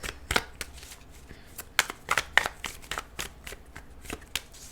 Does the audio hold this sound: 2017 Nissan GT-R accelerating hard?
no